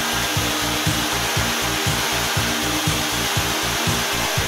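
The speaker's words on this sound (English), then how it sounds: "Beam and end drillings for dowel connections are completed to exact tolerances." A K2 joinery machine drills dowel connection holes into the end of a wooden beam, producing a loud, continuous high-pitched whine with a rapid rhythmic pulsing underneath, steady throughout without pauses.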